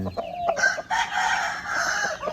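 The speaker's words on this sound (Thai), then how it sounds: "ไก่ยังหนุ่มแล้วนะครับ" A young rooster weighing 2.7 kg crows once, close and loud, in a hoarse, drawn-out call lasting about two seconds, with a few short clucks just before it.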